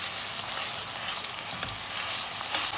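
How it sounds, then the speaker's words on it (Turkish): Ground meat sautés in a pan for okra stew with a steady, close, hissing sizzle that carries on without pause and no voices over it. "İyice kıymamı ezip kavurmaya devam ediyorum."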